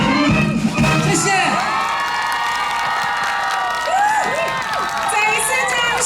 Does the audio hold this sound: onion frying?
no